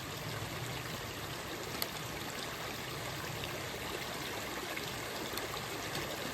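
A creek at a trail water crossing in Red River Gorge rushes steadily, a continuous broadband gurgle and hiss of flowing water close by, even in loudness with no voices.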